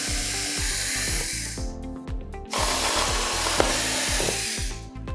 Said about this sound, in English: drills also make very nice holes and are a little easier to get through